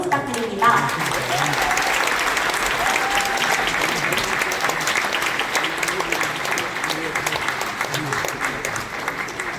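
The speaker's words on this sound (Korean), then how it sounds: "목사님 나오실 때 뜨거운 박수 부탁드립니다." Wedding guests in a church give the officiating pastor warm, sustained applause as he enters, a steady roar of many hands with voices audible beneath it.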